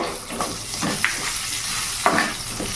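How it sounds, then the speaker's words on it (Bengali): Ginger, garlic and chopped green chillies sizzle steadily in a pan while being stirred, with a constant frying hiss broken by a few sharp clinks of the spatula against the pan. "আমার আদা রসুন লঙ্কা ভালো করে ভাজা হয়ে গেছে।"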